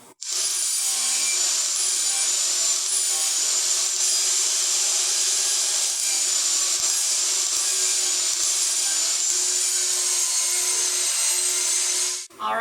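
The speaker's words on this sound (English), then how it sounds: "After I get the dados cut, I'm going to rip this into 2 1-inch wide strips" Power saw ripping scrap wood into strips, one continuous loud rasping cut lasting about twelve seconds, close up and alone.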